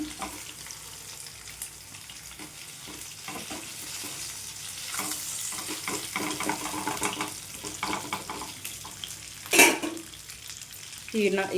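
Fish turned and frying in a pan produce a close, even sizzle with soft scrapes and clinks, including a sharper clatter near the end.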